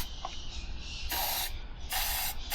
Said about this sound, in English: What you want to do is crack the throttle open and spray this stuff in.